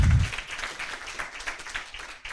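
An audience at an Islamic finance and banking talk in Uganda claps for a presenter, a steady, moderately loud patter of many hands throughout, with a brief low thump at the start.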